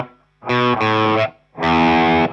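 An electric guitar with a distorted tone plays a C-rooted variant of a riff, two sustained chord stabs followed by a third after a short gap, loud and close with no voice.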